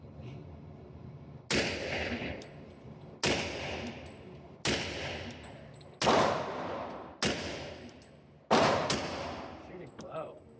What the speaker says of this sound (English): Fuck, that thing sprays.